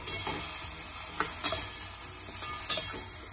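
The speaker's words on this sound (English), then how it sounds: "I'm just going to give it a good stir." Spicy broccoli sizzles steadily in a pan seasoned with sambar or curry powder, with a few sharp scraping clicks from stirring spaced across the few seconds, close and moderately loud.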